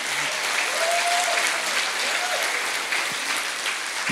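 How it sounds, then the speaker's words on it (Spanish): A church congregation applauds loudly, a dense sustained clatter of many hands clapping, with brief voices and a short tone mixed in. "Aplaudanlo fuerte, please."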